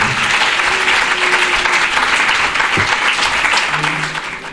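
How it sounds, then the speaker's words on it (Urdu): A church congregation claps loudly for God, dense, sustained applause filling the room before tapering off near the end, with faint voices beneath. "تو آئیے ویسے خدا کے لیے زوردار تالیاں بجائیں"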